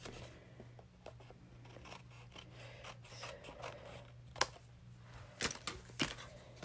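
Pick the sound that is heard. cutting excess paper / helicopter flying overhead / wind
cutting excess paper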